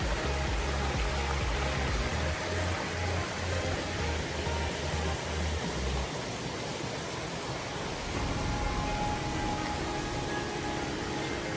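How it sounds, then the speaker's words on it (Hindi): Spring water flows in a garden at Kallar Kahar, a steady, close broadband rush that persists throughout, with low pulsing music under the first half. "कलर का चश्मे का पानी।"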